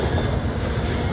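A long KCS freight train with many containers rumbles steadily past, a dense continuous roar with faint clatter of rail cars, close by and without voices.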